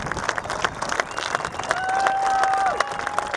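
A crowd at a 150th Gettysburg reenactment of Pickett's Charge claps steadily for a few seconds, with scattered louder claps, a brief whistle and some murmuring mixed in.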